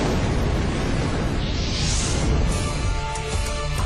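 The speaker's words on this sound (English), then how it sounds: "The tire in the recreation of the hold has burst." A tire bursts during a fire test in a recreated airliner cargo hold, a loud roaring blast that fills the recording for several seconds, dense and close, with no voices.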